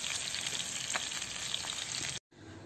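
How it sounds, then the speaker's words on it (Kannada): Marinated fish fries in a pan, giving a loud, steady, dense sizzle and crackle that runs without a break, then cuts out briefly near the end. "ನೋಡಿ ಇವಾಗ ಮೀನಿಲ್ಲಿ ಫ್ರೈ ಆಗ್ತಾ ಇದೆ"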